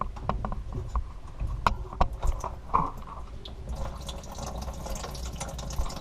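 Water drains from a copper pipe after a shut-off valve is removed with an adjustable wrench, with irregular drips and trickles plus small metallic clicks and handling noises close by.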